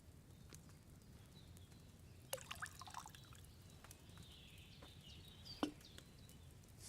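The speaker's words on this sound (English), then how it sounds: "First, you have to pour the right base into the cauldron." Wine being poured into a cauldron in the video game Kingdom Come: Deliverance 2, heard as a faint splashing trickle with a few quiet drips and clinks over a low steady background hum.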